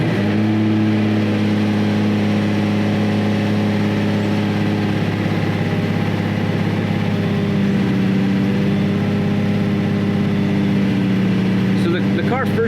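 A Lamborghini Diablo sits in neutral with its engine idling high at around 2,000 RPM, producing a loud, steady, unchanging drone close by that runs throughout.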